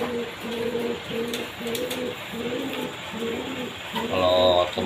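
A racing pigeon (merpati losdor) coos in a steady, repeating rhythm of low, throaty calls close to the mic. Faint background noise sits underneath, and a brief brighter chirp joins near the end.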